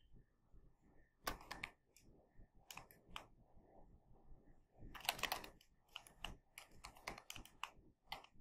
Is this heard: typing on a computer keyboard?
yes